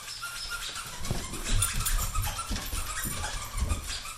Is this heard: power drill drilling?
no